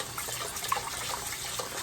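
Rice is rinsed in water: running water splashes and sloshes nearby in a steady wash, with a few small clinks and no voices.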